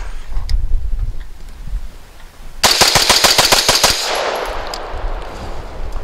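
A rifle fires Fiocchi 55 grain .223 rounds outdoors in a rapid string of about ten loud, closely spaced shots lasting just over a second, with a wind-blown background before and a lingering rumble after.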